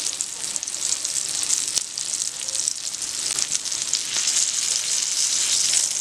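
An omelette paratha cooks in a hot pan, a steady bright sizzle with fine crackle that swells slightly toward the end, broken by one sharp tap, close and continuous without voices.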